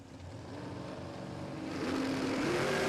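At a Queensland drag racing event, a rear-engine dragster and an altered race car build up a droning engine note that climbs in pitch and grows louder, heard from a distance with no talk.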